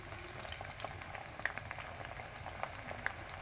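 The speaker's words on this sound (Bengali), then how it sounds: "বন্ধুরা দেখুন এখন দিয়ে দেবো পেঁয়াজ কুচি" Chopped onion dropped into hot oil already holding whole garam masala, cardamom and a torn bay leaf, giving a steady soft sizzle with a few small crackles and pops, close but fairly quiet.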